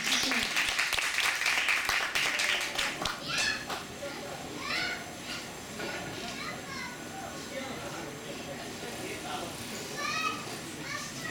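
Applause from a live music audience for the accompanist, loud clapping at first that thins into scattered claps, with children's voices and chatter continuing underneath.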